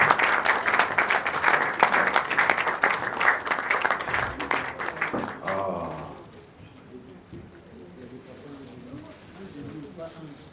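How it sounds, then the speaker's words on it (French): Audience at a film premiere applauding the mothers with loud, dense clapping for about six seconds. It then fades, and voices and quieter room sounds follow. "est-ce qu'on peut les applaudir encore? Bien fort."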